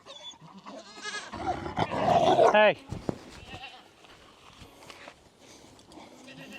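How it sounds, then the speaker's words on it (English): A stuck goat gives a loud, wavering bleat at close range amid shuffling footsteps and rustling, then quieter movement follows while someone speaks briefly. "let's see if we can get this goat out real quick"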